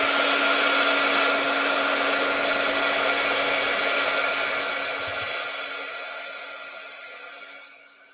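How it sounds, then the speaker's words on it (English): Hair dryer blows steadily over a watercolor painting, a loud constant whirring hiss with a fixed motor hum that holds for several seconds and then winds down as it is switched off. "I'm going to go ahead and blow dry this"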